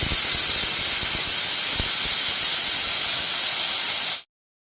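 A pressure cooker vents steam in a loud, steady hiss that runs evenly for about four seconds, with a couple of faint knocks underneath, then cuts off abruptly into silence.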